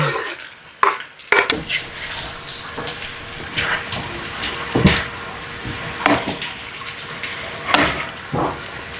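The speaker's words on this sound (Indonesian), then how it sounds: "Setelah tomatnya masuk, kita masukin dagingnya" Beef ribs and tendon stir-fried with tomato in a pan: repeated scraping stirs and clattering utensil hits over a steady sizzle, with sharper scrapes every second or so.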